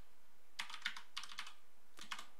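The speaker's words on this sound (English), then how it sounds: "So let's type in define Fibonacci" Python code being typed on a computer keyboard: close, crisp clusters of key clicks in short bursts with brief pauses between, over a faint steady hum.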